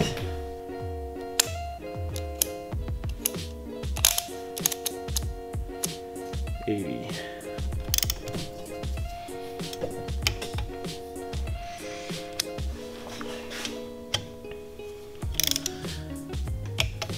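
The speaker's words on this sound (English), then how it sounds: "so I'm gonna have to grab my other torque wrench" A torque wrench ratchets in rapid clicking bursts while tightening bolts on a Mitsubishi Evo X engine being built, with sharp metallic ticks and pauses between strokes, close and fairly quiet.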